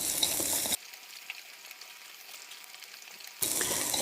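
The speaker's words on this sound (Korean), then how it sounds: "볶아서 향을 내고 마늘이 살짝 투명해질 정도로, 한 반 정도 투명해질 정도로 볶아줍니다" Garlic and dried chili stir-fry in a wok, heard as short bursts of bright sizzle and stirring at the start and end, with a much quieter stretch between.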